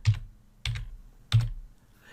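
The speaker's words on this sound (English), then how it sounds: "I could also start typing it" Three separate, evenly spaced keystrokes or clicks on a computer keyboard, crisp and close-up in otherwise quiet surroundings.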